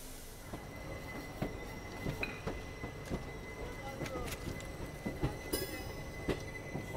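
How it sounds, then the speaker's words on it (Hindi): An Indian passenger train, the 12334 Vibhuti Express, pulls out of a station after a two-minute halt, its wheels rumbling and clattering steadily, with scattered clicks and light squeals over a low background. "और ट्रेन अपनी यहाँ से निकल भी गई है मात्र 2 मिनट के हॉल्ट के साथ"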